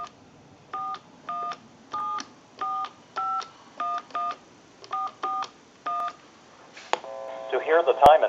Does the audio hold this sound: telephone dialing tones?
yes